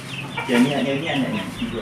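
Chickens cluck close by in a short flurry of overlapping calls, with soft farmyard noise around them.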